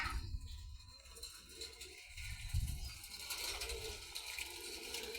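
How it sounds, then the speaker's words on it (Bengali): Frightened pigeons at a pigeon farm give soft, intermittent coos that are faint and partly buried under a steady, noisy outdoor background. "এই যে কবুতর খামারে কবুতরগুলো মানে ভয়ে আছে"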